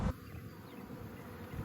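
Honeybees from a newly hived colony hum steadily and close by, a continuous insect drone with no talk, as the stragglers outside fan near the hive entrance.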